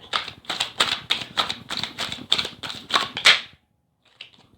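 Tarot cards being shuffled, a run of about ten quick crisp riffling bursts in steady rhythm, close and fairly loud, ending abruptly with a faint rustle after a short pause.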